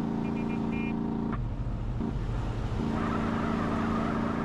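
A car in GTA: San Andreas holds a steady, droning engine roar while doing burnouts, with a brief dip and shift in pitch midway before the loud revving resumes, alone without talk.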